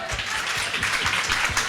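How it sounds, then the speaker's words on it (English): An audience applauds Ashley, the moderator, at an EthWomen session during Blockchain Futurist Toronto 2025. Dense, steady clapping from a mid-sized crowd continues unbroken at moderate loudness. "one more big round of applause for Ashley."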